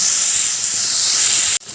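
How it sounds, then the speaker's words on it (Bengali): Cut yardlong beans drop into hot oil with fried panch phoron and dried chilli, giving a loud, steady sizzle that cuts off abruptly near the end. "এবার আমি দিয়ে দিচ্ছি টুকরো করে কেটে রাখা বরবটি"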